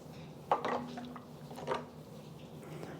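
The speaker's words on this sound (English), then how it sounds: "Give it a stir." Asian soup with white pepper and sesame oil is stirred in a pot, a utensil giving two soft clinks against the side amid faint liquid sloshing, quiet and close.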